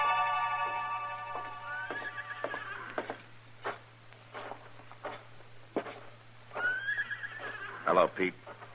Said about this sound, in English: Where did you leave your horses, Jesse?